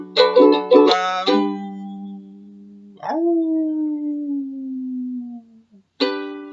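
A human voice imitates a wolf howl in a Halloween storytime setting. The long sliding howl rises, then falls and trails off, after a few short sung notes, with a clipped final cry at the end.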